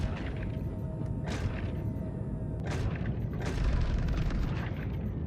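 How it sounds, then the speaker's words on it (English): A ballistic Gatling gun fires at a ship in a space video game, bursts of rapid booming shots over a steady rumbling background, moderately distant and without talk. "Now switching to the ballistic Gatling gun"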